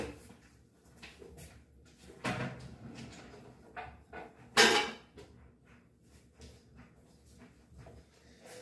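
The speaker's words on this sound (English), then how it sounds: "I'm going to grab a pan" A 9x13 baking pan is pulled from a kitchen cupboard in a home kitchen: scattered knocks and rattles of metal and wood, then a louder clanging scrape before quieter shuffling and taps.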